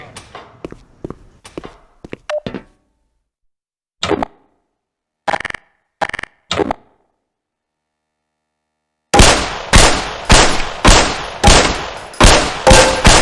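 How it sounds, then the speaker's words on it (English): Pistol shots fired at range targets in Half-Life: Black Mesa, sparse sharp cracks early on, then a rapid, loud run of repeated shots in steady rhythm near the end. "Put 7 rounds in the center ring of each target."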